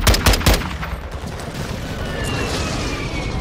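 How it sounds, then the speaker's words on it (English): Airstrike and heavy gunfire in the Warzone 2 video game: a rapid burst of loud explosive shots in the first half second, then a sustained rumbling wash of distant blasts. "Friendly airstrike in the AO."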